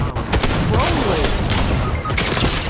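Drum shotgun fire in Fortnite comes as rapid, loud, overlapping blasts and crashes close by, a dense fusillade with mechanical clatter, and a voice cuts in briefly.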